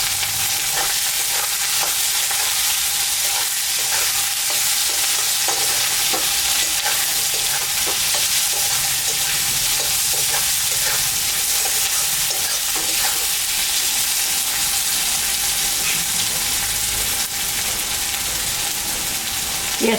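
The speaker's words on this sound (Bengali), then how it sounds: "পেঁয়াজটা একটু ভাজা ভাজা হোক" Chopped onions and green chilies frying in hot oil, a steady loud sizzle with occasional stirring scrapes, continuous and close throughout.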